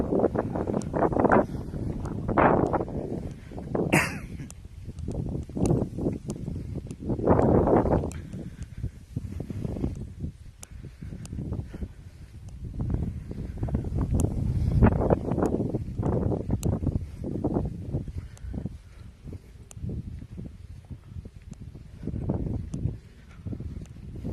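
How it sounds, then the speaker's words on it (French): Strong wind buffets the microphone during a countryside walk, roaring in uneven gusts that rise and fall continuously throughout, with occasional faint rustling and no voices. "Le vent est assez fort, ce qui n'est pas forcément très agréable quand on marche complètement."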